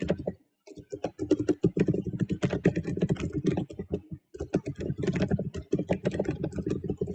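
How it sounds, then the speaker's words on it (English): Loud, rapid typing on a computer keyboard, a dense clatter of individual key strikes in bursts with a couple of brief pauses, close and prominent. "That's some loud typing."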